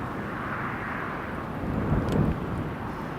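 A Jet2 Airbus A321 taxiing for departure at Newcastle Airport on a windy day, a low distant engine rumble and whine under gusting wind noise that swells briefly midway.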